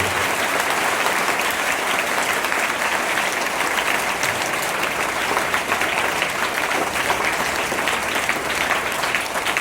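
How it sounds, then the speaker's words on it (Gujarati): A Guru Purnima celebration crowd gives the teachers a long, loud, dense round of applause, unbroken clapping filling the hall for nearly ten seconds with no talk over it. "આ તમામ ગુરુઓને પણ અવાજ પહોંચે ત્યાં સુધી તાળી પડવી જોઈએ"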